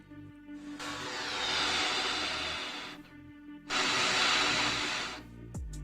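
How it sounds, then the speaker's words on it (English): Two long breaths of air are blown through a trumpet without buzzing the lips, each a broad steady whoosh lasting about two seconds and separated by a short pause, close and alone. "continue to blow through that trumpet"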